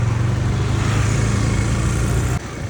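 Motorcycle engine running steadily and loudly up close, ridden by pulling the throttle cable by hand instead of using the accelerator, with a constant drone that drops abruptly near the end.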